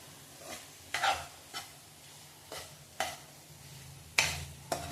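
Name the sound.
sautéing in oil in a pan, with stirring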